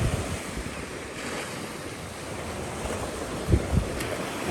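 Sea waves wash onto a beach in a continuous surf roar mixed with wind noise buffeting the microphone, with a couple of louder breaking surges near the end.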